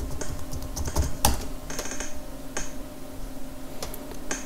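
Computer keyboard keys are tapped in quick irregular bursts as a login ID and password are entered, close clicks over a steady background hum with no voices.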